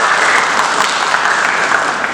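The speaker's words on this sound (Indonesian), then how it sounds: "Kita beri tepuk tangan untuk Pak Rahyono" An audience at a Javanese cultural dance gathering claps for a speaker, a loud, dense, steady applause lasting throughout.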